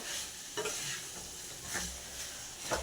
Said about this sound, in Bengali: আলুগুলোও অ্যাড করে ভালো করে কষিয়ে নেব